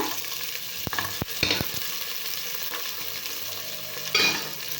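Garlic sautéing in a pan for brinjal rice: an even background sizzle broken by several knocks and scrapes of a spoon against the pan as it is stirred, close and without talk.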